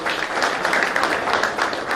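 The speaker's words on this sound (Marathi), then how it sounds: "त्याबद्दल त्यांच्यासाठी एकदा जोरदार आपण टाळ्या वाजवूया" Audience clapping at a fishermen's community gathering, a dense steady wash of applause that holds at an even level for two seconds with no voices on top.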